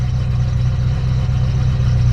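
A vintage Ferrari engine, still fitted with its old exhaust, idles as it warms up, giving a steady, loud, low rumble with an even pulsing throb and no talking over it.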